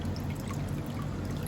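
A hydroponics drainage hose lets water trickle and pour steadily at close range, a continuous soft splashing stream without any talk.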